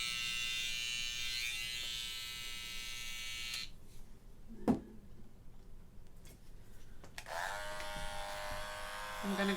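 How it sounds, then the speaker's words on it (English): Electric hair clipper buzzing steadily at close range while cutting a taper, stopping briefly partway through with a single sharp knock before the motor starts humming again. "I'm gonna go with my clipper open."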